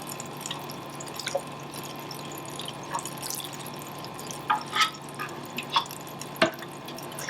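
Water drips and trickles while house plants are watered indoors, with scattered faint drops at first and then a cluster of clearer, closer plinks, all over a soft, steady background hiss.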